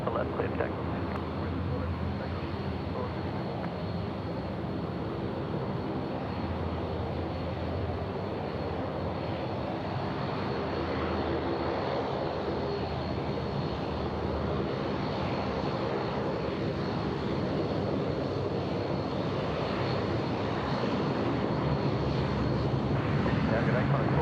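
An airliner takes off at Sydney Airport, its engines producing a loud, sustained roar that holds steady and builds slightly, with radio chatter and talk over it.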